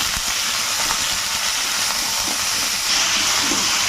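Lemon and pepper marinated chicken frying in oil gives a steady, loud, close sizzle and hiss that swells slightly near the end, with no one speaking.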